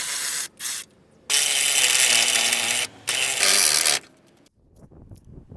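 Power tool loosening the transmission mount bolts on a 2014 Toyota Camry LE Hybrid 2.5L, loud broadband whirring bursts: two short bursts, then two longer sustained runs separated by a brief pause, with quiet clanks of handling afterward.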